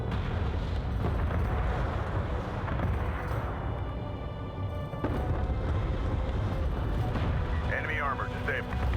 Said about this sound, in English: Sensors post is under fire.